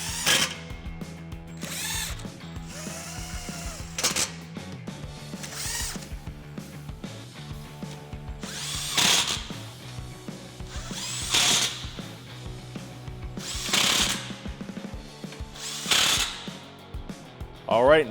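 Power tool tightening exhaust bolts on a 2018 Mustang GT Fastback while fitting an AWE Touring cat-back exhaust, with repeated short bursts of whirring and ratcheting close by, spaced over the clip, between quieter clanks of the work.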